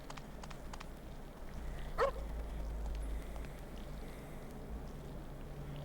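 A single dog bark in the survival horror game Parasite Eve 2, one short yelp standing out at moderate distance over a steady low ambient hum.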